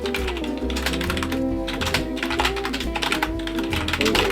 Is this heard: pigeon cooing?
no